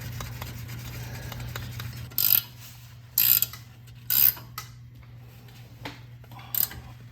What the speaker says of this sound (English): Then you start torquing it down.